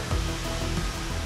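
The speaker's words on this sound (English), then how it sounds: "allowing us to walk behind the waterfall" Seljalandsfoss waterfall in Iceland gives a dense, steady roar of falling water, close and unbroken through a brief moment.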